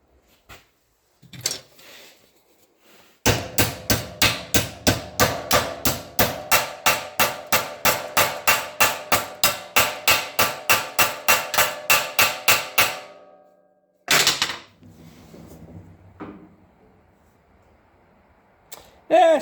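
Hammer folding over the bottom lip of a sheet metal door skin during a door bottom repair: a long, steady run of sharp metallic blows at an even quick rhythm, close by, with a few isolated knocks before and after.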